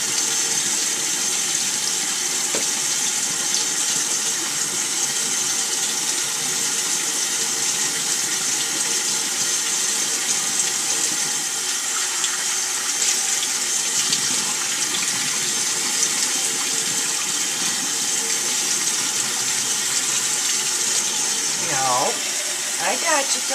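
A household tap runs steadily while a dog is bathed, a continuous close splashing rush of water with brief sloshes near the end and a person talking in between.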